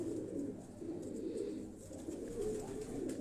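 Blue Sheikh pigeons cooing in soft, low repeated calls, faint and fairly steady, with no voices over them.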